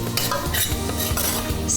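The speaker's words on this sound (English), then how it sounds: "I'm using the back of a spoon to press this burfee mixture down, just to even it out slightly" A spoon's back presses and scrapes a hot, sticky barfi mixture made with sugar syrup, giving close, steady soft scraping and stirring sounds with light metallic touches throughout.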